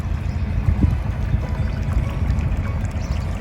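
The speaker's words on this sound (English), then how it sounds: "All you can hear is the lapping of the water." Water laps and sloshes gently against a boat hull, soft irregular splashes close by over a low steady rumble.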